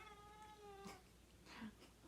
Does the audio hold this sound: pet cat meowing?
yes